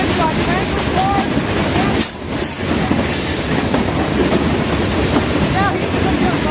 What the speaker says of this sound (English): Hey Jordan, this train's got rock hoppers, it's got green parts, it's got tanker parts.